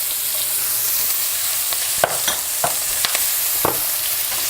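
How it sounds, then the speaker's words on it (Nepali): Onion frying in a pan with green chilli and a little turmeric while being stirred: a steady sizzle with several sharp scraping clicks of the spoon, close and loud, no voices. "अब यसमा म राखिदिन्छु प्याज"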